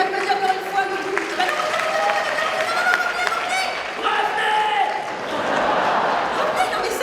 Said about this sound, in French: On les applaudit encore une fois, le public.